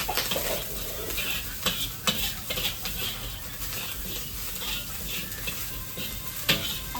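Cabbage stir-fries in a pan with rice nearby, a constant near sizzle punctuated by several scraping stirs and spatula clinks, with no talking.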